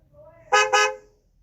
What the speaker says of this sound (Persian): بریم بوق ماشین.